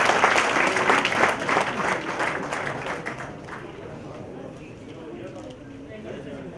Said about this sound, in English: A big round of applause for our Chief Guest and Guest of Honor.